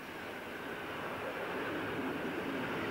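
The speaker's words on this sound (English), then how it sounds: "pulls a passenger train into a wet and smoky station" A modern electric locomotive hauls a passenger train into a wet, smoky station in Eastern Europe, giving a steady, loud broadband rumble and rolling roar with no voices.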